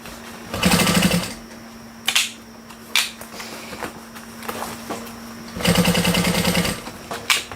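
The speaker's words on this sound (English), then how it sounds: "Come on, sewing machine." Sewing machine stitching a bag, running in two loud bursts of rapid mechanical whirring, with quieter clicks and handling noises between them.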